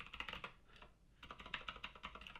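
Rapid keystrokes on a computer keyboard while building a web sign-up page, in two bursts of close, steady clicking with a short pause between them.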